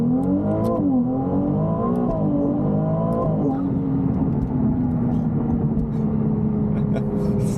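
Ferrari 296 GTB engine pulling hard under acceleration, a loud continuous roar that climbs and dips in pitch, heard from inside the car with a voice speaking over it.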